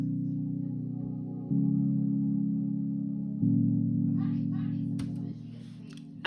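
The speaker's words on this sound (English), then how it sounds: "the real main chord sound is this sound from Alchemy" Gentle sustained synth chords from an Alchemy software instrument, a soft pad shifting through a few held chord changes at a steady level, with a brief faint noise near the end.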